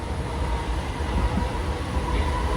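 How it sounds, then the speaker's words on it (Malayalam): A Mumbai local train rumbles through Wadala Road station, a loud, continuous low roar of wheels and carriages that stays close and steady the whole time. "ഇതാണ് ലോക്കൽ ട്രെയിൻ."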